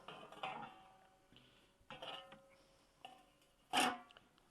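A stainless steel pan is handled and set in place, giving a few quiet, scattered clinks and knocks that end with one sharper metallic clank.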